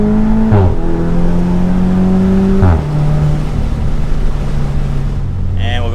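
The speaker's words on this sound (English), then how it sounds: "now that you can actually hear the exhaust in this car" An Audi S3 with an AWE SwitchPath exhaust revs up twice with a deep, throaty note, pitch climbing and dropping between gear changes, loud and close.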